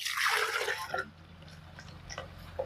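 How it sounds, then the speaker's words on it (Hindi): Water is poured into a ground mixture of lemon and shatavar for homemade organic fertilizer, a close, splashy rush at first that quickly fades into scattered drips and small liquid sounds. "और इसमें पानी डाल लेंगे,"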